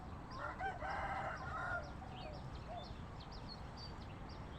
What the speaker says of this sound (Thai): นี่นะครับเจ้าสองขันแล้วนะครับ